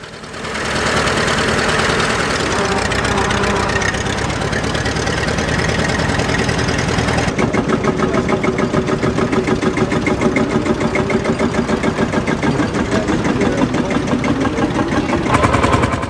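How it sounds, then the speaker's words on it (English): An original-condition Fordson Model F tractor, Irish-built around 1923–24, idles at a steam fair with a loud, steady chugging beat and a rough metallic rattle that runs unbroken from start to finish. "An original condition Fordson Model F, made in Ireland, probably around 1923-24."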